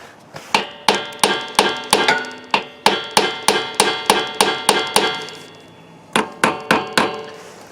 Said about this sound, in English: we're going to whack on the knuckle with a hammer